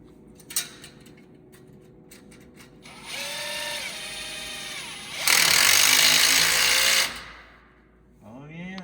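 A socket wrench tightening a part while prepping an off-road race vehicle: a stretch of mechanical ratcheting followed by a louder, harsher burst of metallic working noise, close and fairly loud.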